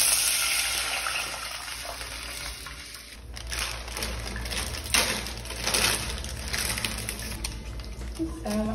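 Tap water runs steadily into a pot for making ramen, a broad continuous rushing stream close by that swells and churns, with no talking.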